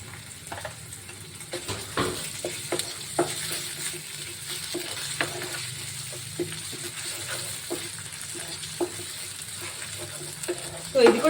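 Ginger garlic paste fries in a pan for a beans and tomato curry: a continuous close sizzle broken by repeated sharp spatula scrapes and taps at an uneven rhythm.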